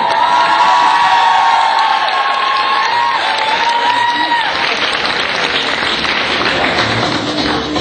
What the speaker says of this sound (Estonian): Teeme nüüd Maarikale veel kõva aplausi.